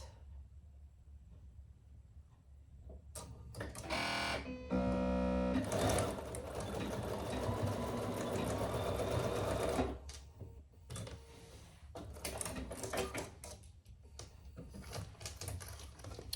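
A sewing machine stitches zipper tabs onto a fabric travel jewelry case, running in a long steady burst, then in shorter start-stop bursts of rapid mechanical stitching in a quiet room.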